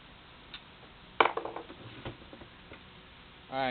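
Threads on a keypad part turned in reverse, giving a few sparse, light mechanical clicks and ticks close by, with a brief voice starting at the very end.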